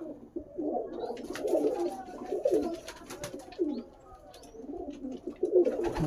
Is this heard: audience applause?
no